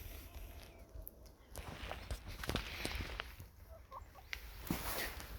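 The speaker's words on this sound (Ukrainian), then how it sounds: "їдять сніг кури." Soft clucking of hens close by outdoors on a frosty, snowy day, scattered short calls over faint rustling and shuffling steps.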